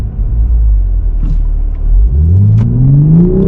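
A 2024 Toyota GR Supra 3.0 Premium rumbles loudly up close, then its engine note climbs steadily as it accelerates hard through the final seconds.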